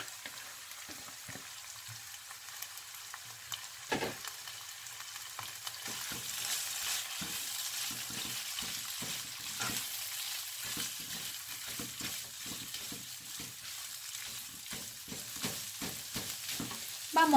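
Beef sizzles in a pan with softened sofrito for Cuban ropa vieja, a steady close frying hiss broken by scrapes and stirring clicks, with no talking.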